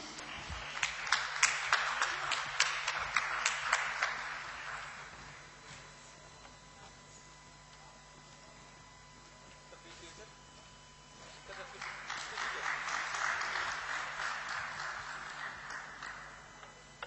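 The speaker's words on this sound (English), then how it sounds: "Let us all give them a huge round of applause for an excellent session." A crowd claps in a burst of applause that fades, then swells again after a quiet stretch of murmuring room noise.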